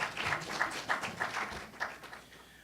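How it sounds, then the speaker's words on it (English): Audience at a quality professionals panel event applauding, a short burst of scattered hand claps that thins out quickly, moderately distant and fairly quiet. "Give them a round of applause, please."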